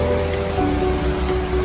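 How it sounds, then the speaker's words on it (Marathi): Water pours down Sawatsada waterfall in the Konkan during the monsoon, a steady, even hiss of rushing water close by and fairly loud, with no voices. "धबधबा आहे इथून साईडनी आणि इथून पाणी वाहते मस्त"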